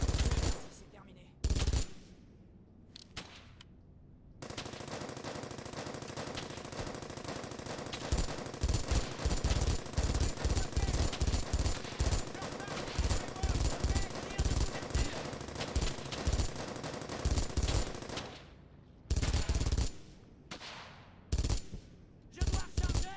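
Sustained machine-gun bursts and rapid rifle fire in the World War II shooter Brothers in Arms: Hell's Highway, loud and dense with brief pauses between volleys, and a voice speaking occasionally over the shooting.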